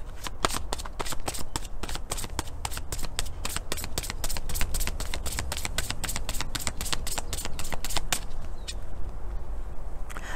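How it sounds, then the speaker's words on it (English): A deck of cards is shuffled at close range, giving a rapid run of crisp riffling flicks and snaps that continues steadily for about ten seconds before fading into softer handling. "when I was shuffling this deck and getting it prepared"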